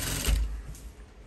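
A sewing machine stitching through folded cloth in one short, close burst of rapid mechanical clatter that fades quickly.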